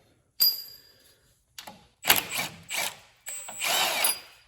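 Power tool spinning out bolts from a VW Bug front beam, several short bursts of whirring and rattling separated by brief pauses, close and fairly quiet.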